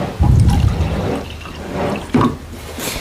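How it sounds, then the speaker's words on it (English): Liquid yellow dye splashes onto fabric sitting in a soda ash solution, two distinct pours with splashing and dribbling, close and fairly loud, no voices. "And then I'm going to use yellow dye. Pour that on top."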